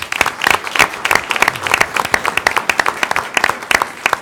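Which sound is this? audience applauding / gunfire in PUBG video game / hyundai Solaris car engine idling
audience applauding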